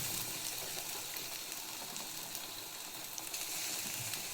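Tomatoes frying in a hot pan for egg puff filling, giving a steady close hiss and crackle of sizzling oil that holds an even level throughout, with no talking.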